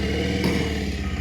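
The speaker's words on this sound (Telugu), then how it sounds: "ఒకసారి సెల్ఫ్ స్టార్ట్ చేద్దాం." A 2026 Bajaj Pulsar 150 Twin Disk motorcycle engine runs just after its self-start, a steady close idle that holds for the whole moment.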